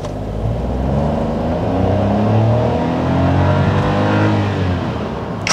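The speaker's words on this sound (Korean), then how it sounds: "아, 근데 엔진 소리는 진짜 시끄럽다, 이거." A Hyundai Casper 1.0 turbo pulls away in city driving, its engine droning loudly and steadily as it accelerates, heard close from inside the car with no talking.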